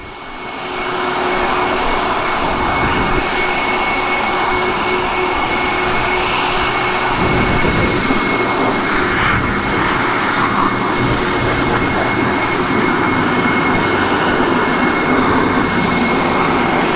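A powerful air dryer blows a freshly washed 2023 Kawasaki Ninja 650 motorcycle, a loud, steady whooshing roar with a constant whine, close to the microphone and unbroken for the whole stretch, no voices.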